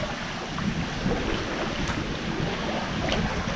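A steady, dense rush of water pouring from a busted pipe under a bridge fills the scene continuously, loud and close, with no voices.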